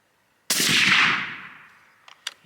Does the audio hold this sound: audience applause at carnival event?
no